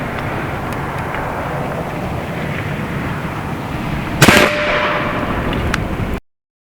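An AEA Zeus .72 cal air rifle fires once and the round strikes a concrete foundation block, a single sharp, loud crack over a steady outdoor background hiss, followed by a brief lingering ring.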